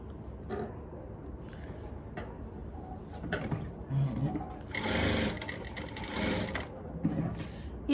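A sewing machine runs in short bursts while stitching a cord in place to hide it, a quiet rapid mechanical whir with one louder sustained run, amid soft handling sounds.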